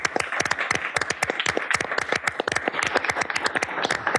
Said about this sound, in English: So a little round of applause for the speakers.